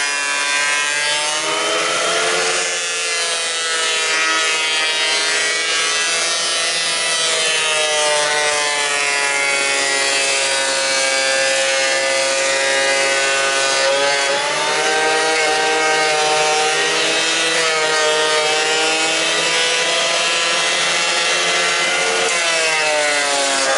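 A cheap benchtop planer feeding lumber for wainscoting, a loud sustained whining cutter drone with strong harmonic tones that dip and shift slightly as boards pass through, no talking.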